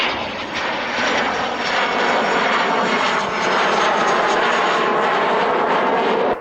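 An aircraft flies past with its landing gear down at the 1998 Woodford Airshow in England. The engine roar is loud and sustained, a broad rushing drone that swells slightly and holds for several seconds.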